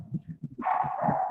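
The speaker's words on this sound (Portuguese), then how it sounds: "os cachorrinhos latindo aqui." Puppies barking and yipping in the background of a quiet room, with a busier burst of sound starting partway through and continuing steadily to the end.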